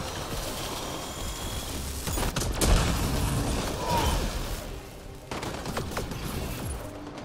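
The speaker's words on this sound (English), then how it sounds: "Just got shot from around this corner." Gunshots in the video game Apex Legends, sharp repeated cracks and rapid bursts at close range over continuous game ambience, coming in two clusters with a short lull between them.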